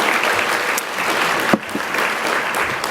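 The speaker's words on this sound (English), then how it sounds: "And we can applaud for that." A lunch plenary crowd at a sustainability summit claps steadily, a dense and fairly loud round of applause filling the whole stretch.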